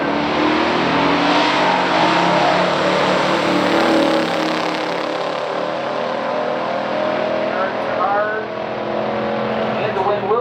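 Drag race between a 1970 Chevrolet Chevelle SS454 LS6 and a 1970 Buick GS 455 Stage 1 at a stock drag event, loud continuous engine roar filling the scene with a track announcer talking over it.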